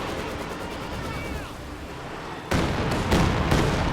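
Company of Heroes 2 battle sounds: a dull rumble of distant artillery, then sharp, loud bursts of shelling and gunfire in quick succession near the end.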